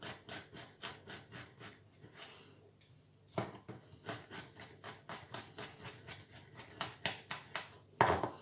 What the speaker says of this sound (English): I'm just going to chop that garlic as thin as I can